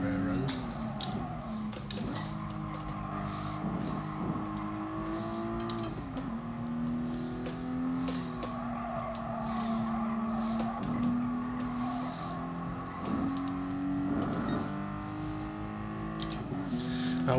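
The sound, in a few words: car engine in Gran Turismo Sport video game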